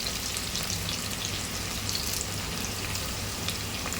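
Three large chopped onions fry in a pot for mutton yakhni pulao, giving a dense, even, close sizzle that holds steady throughout with no voices.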